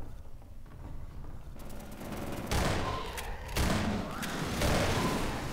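Gunfire against hunters in Half-Life 2 Episode 2: a loud, sustained volley of shots and heavy booms that swells in waves across the whole stretch of chaotic combat.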